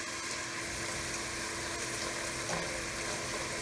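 A large batch of potato chips frying in oil, a dense, even sizzle and bubbling hiss that holds steady throughout, close and continuous, with a faint low hum underneath and no talking.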